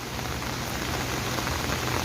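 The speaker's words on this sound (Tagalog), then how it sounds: "lumalakas yung ulan." Heavy rain pours steadily and loudly during a landslide on a city street, a dense unbroken hiss of water with no voices over it.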